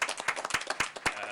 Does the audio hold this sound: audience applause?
yes